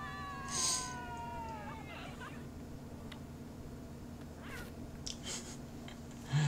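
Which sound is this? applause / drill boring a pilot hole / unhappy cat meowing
unhappy cat meowing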